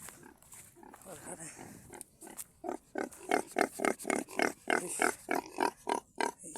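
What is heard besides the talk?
pigs on a farm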